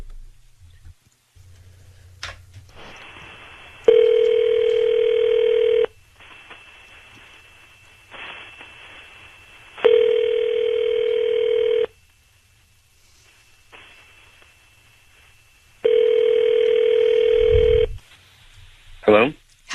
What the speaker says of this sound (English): we're going to dial up your husband right now